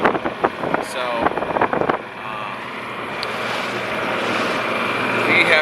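Strong wind over a lake during a fishing trip buffets the microphone in gusty rumbles. Someone talks over the first couple of seconds, then the wind settles into a steady blustery roar.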